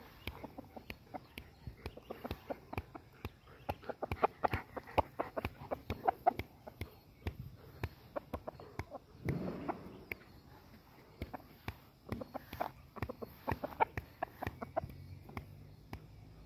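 Chickens on a livestock farm give repeated short clucks in uneven bursts over a quiet background, close and fairly soft, with scattered scuffling and footstep-like knocks between calls.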